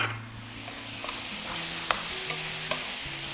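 Blanched vegetables hit a hot pan for an Asian-style stir-fry, sizzling steadily with a few sharp clicks from stirring and pan contact, close and unaccompanied by speech.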